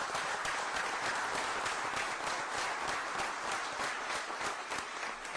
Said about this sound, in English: I want to give y'all a round of applause.